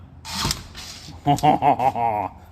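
The automatic door of a 1931 hot rod pickup opens from a hidden button with a short mechanical creak and whir, followed by brief close-up talk.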